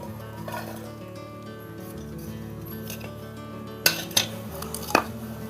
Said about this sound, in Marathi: आता मम्मी टोमॅटो कापणार